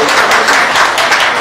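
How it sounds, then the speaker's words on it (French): Audience applause at a Paris album launch fills the room, a short dense burst of steady clapping with no talk over it. "S'il vous plaît, applaudissez cette dame."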